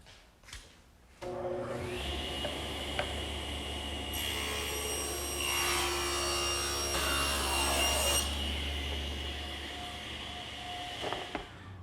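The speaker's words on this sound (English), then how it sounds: "to cut them, I'll just use my stationary saw" A stationary saw rips and cross-cuts solid wood panels, its steady motor whine running loud throughout, with the blade's cutting noise rising partway through each pass before the machine winds down.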